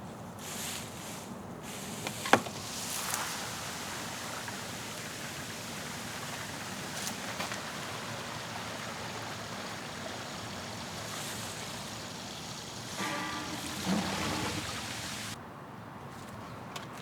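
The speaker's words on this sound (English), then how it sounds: "I'm going to fill up the tank and let's see what happens." Water rushes steadily into an RV black tank, a continuous hissing wash of flow with a few faint clunks and a slight tail-off near the end, no talking.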